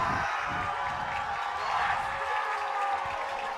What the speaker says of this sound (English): The crowd coming to life on third down, hoping for a stop.